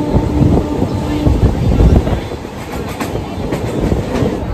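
Howrah to Digha local train pulling out of Contai, with a steady loud rumble, clattering wheels on the rails and wind rushing past the carriage, heard from on board.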